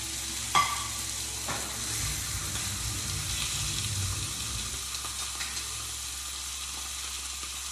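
T-bone steak seasoned with onion and garlic powder hits a hot pan and sizzles with a steady, close frying hiss, a brief clatter near the start and the sizzle easing toward the end.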